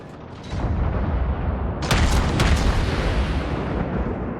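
Naval cruiser gunfire in World of Warships, a Soviet Chapayev-class cruiser shelling a German cruiser: a sustained booming rumble with a couple of sharp, loud blasts in the middle, no voices.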